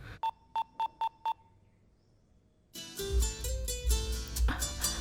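A phone keypad sounds five short, evenly spaced dialing beeps, loud and clear, followed by a pause and then music from a film scene.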